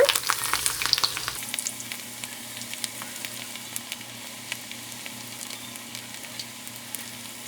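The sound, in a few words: ragi onion pakoda batter frying in hot oil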